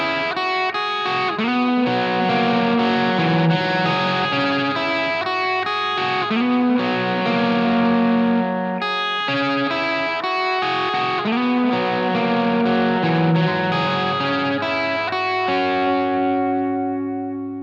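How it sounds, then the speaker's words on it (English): An electric guitar plays through the HBE distortion on a Line 6 POD Go, loud, saturated chords and riffs ringing out in bursts, ending on a sustained fading chord. "I can kick in the HBE, the hairy brown eye, for over the top distortion"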